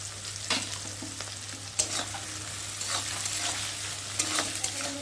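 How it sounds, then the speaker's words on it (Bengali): Onions and green chillies fry in a pan, giving a steady soft sizzle with occasional scraping clicks from stirring and a low background hum. "পেঁয়াজটা ভাজা ভাজা হয়ে গেছে"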